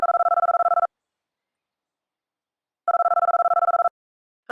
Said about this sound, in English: Let's give Daniel a bell, shall we?